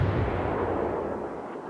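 Warship guns firing in the World of Warships video game: a single deep, booming artillery blast that fades out over under two seconds.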